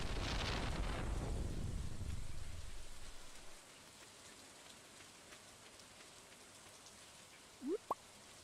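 Steady rain falls loudly across a video game scene for the first few seconds, then drops to a faint background hiss, with a brief rising electronic chime near the end.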